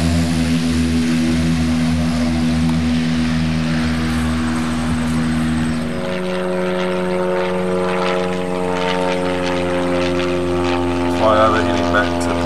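An RV-8 light aircraft at Foxhill airfield runs its engine nearby with a strong, steady propeller drone that shifts pitch as it powers up for takeoff, with voices talking in the background.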